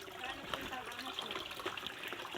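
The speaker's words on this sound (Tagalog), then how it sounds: "Oh yun ang bukal namin At dito rin kami inom maganda yan spring" Natural spring water trickles softly and steadily outdoors, quiet and continuous, with faint voices in the background.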